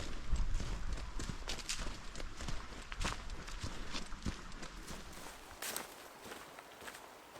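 Footsteps of a solo hiker carrying a packraft on a mountain trail in autumn, steady crunching treads close to the microphone in an even walking rhythm.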